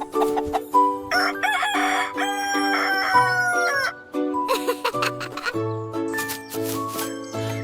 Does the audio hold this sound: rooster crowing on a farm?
yes